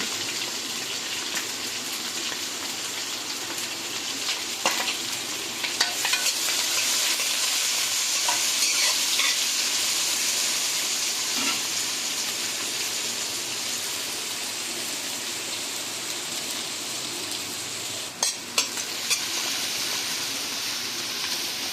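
Onions sizzling in a hot pan while being stirred for rava kichadi, a continuous bright frying hiss with occasional scrapes and clicks of the spoon, steady and close without speech.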